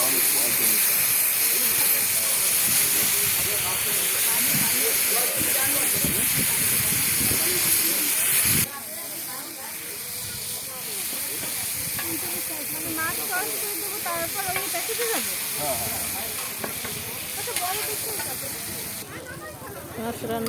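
Loud, steady steam hiss from fish cooking at a lunch spot in Kuakata, continuous throughout and dropping somewhat in level partway through, with voices talking over it.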